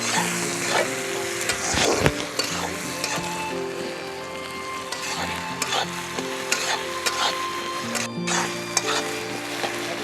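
Garlic paste and tomato pieces fry and sizzle in a pan for duck curry, a loud continuous crackle broken by the scrape and stir of a utensil. No one speaks.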